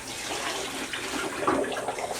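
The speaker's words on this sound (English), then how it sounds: "start off with hot coming out of the faucet so it doesn't take so long" Warm water pours steadily from a kitchen faucet, making a continuous close rush with a little splashing and no voices, while white garlic is being prepared.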